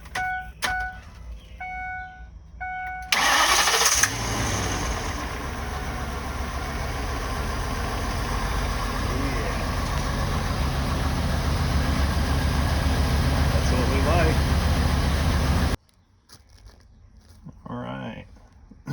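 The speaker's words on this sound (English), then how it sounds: "So we're gonna fire it up and see how it sounds now." A Ford 6.8 V10 engine, just repaired after a blown-out spark plug and sitting overnight, cranks and catches, then runs at a steady, loud, rough idle for about twelve seconds before cutting off.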